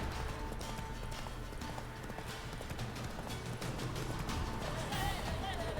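Hoofbeats of Roach, Geralt's horse in The Witcher III: Wild Hunt, pounding in a steady gallop over a dense game soundscape of music and ambience, loud and continuous.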